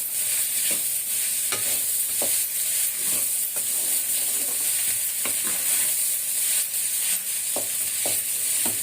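Cooked rice for egg and vegetable fried rice stir-frying in a hot pan, a steady close sizzle with repeated scraping and stirring strokes of the spatula at irregular intervals, with no talking.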